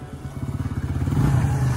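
A modified motorcycle runs on a test ride, its engine putting out a steady pulsing thrum that builds slightly toward the end, close and fairly loud with no talking.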